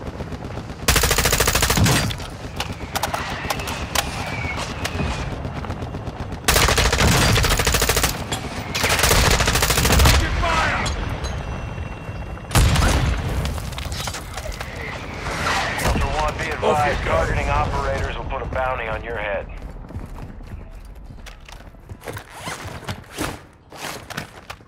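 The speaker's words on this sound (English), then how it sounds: "Friendly mortar strike inbound." Heavy mortar strike explosions and bursts of gunfire in the video game DMZ, loud and sustained blasts with rattling automatic fire.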